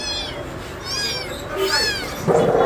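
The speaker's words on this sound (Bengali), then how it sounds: "দেখেন এখানে অনেক কিউট বিড়াল আছে" A mixed-breed kitten meows repeatedly at close range, several short rising cries in a row, over soft background noise from a busy cat-selling spot in Bangladesh.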